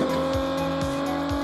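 A muscle car engine in the Call of Duty Mobile video game drones steadily and loudly, with short rising pitch sweeps like quick revs, for just over a second.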